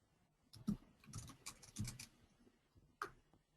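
Faint, scattered keyboard typing: a few irregular clusters of soft key clicks, then a pause and one more tap, quiet and somewhat distant.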